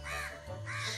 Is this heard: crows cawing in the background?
yes